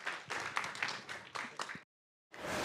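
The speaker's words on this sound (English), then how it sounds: "Big round of applause, ladies and gentlemen" Audience at a conference launch applauding, a burst of dense clapping that stops abruptly, then resumes after a brief silence.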